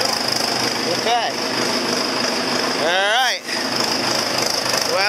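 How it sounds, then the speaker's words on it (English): A 6200 tractor's diesel engine runs steadily, a loud, close, rhythmic clatter throughout, while a person's voice rises and falls over it a couple of times. "we have actually got life in our tractor here. There it is. She runs, actually running pretty clean"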